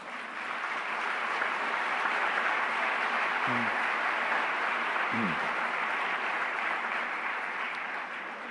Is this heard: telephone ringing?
no